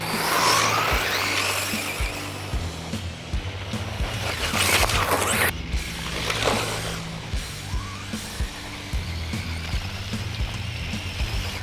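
A Traxxas Ford GT 4Tec 2.0 RC car drifts and does tyre burnouts on an open surface, its tyres hissing and squealing over a continuous whining motor, with bursts of skidding noise and no talking.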